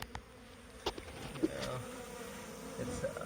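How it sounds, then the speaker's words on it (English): A mass of honeybees hums and buzzes steadily as they are shaken into a box during a bee removal, with a few dull thumps, fairly quiet and close. "we got all these bees here. So we're just going to shake them into the box"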